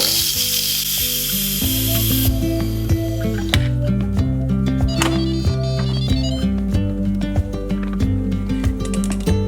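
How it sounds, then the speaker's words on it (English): Steam hisses loudly from an Instant Pot during a quick pressure release after cooking a mini cheesecake. A broad rushing burst lasts about two to three seconds, then cuts off, with music playing underneath throughout. "I am going to quick release the rest of the pressure"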